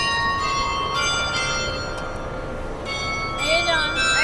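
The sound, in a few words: church bell ringing for mass at night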